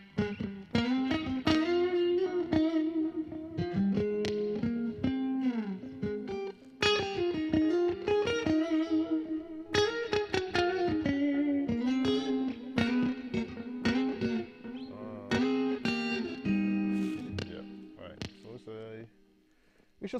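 A distorted, effects-heavy instrument plays a busy melodic line during music production, its notes smeared by an echo that keeps sounding continuously throughout at a strong, steady level.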